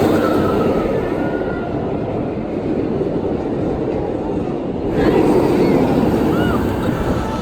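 The West Coast Racers roller coaster rumbles and roars in a loud, continuous stream of wind and track noise during the ride, with a slight surge near the end.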